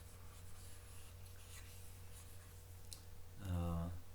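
A calculus problem written out by hand, with soft continuous scratching and rubbing strokes and a brief louder hum-like burst near the end, low in level.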